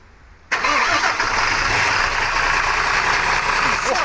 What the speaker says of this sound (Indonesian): kita mau menghidupkan mesin